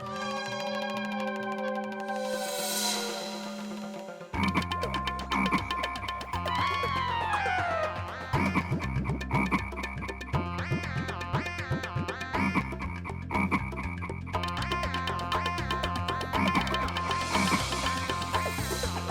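Several frogs croak in a steady, overlapping chorus, with repeated throaty calls carrying over a busy background and no talking.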